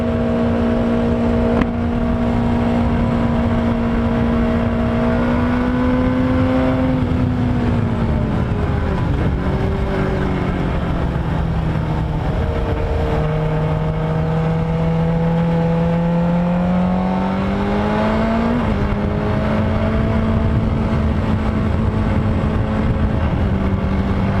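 A sport bike engine runs loud and close throughout while being ridden, its steady droning tone rising and falling in pitch as the rider speeds up and eases off, with no talking.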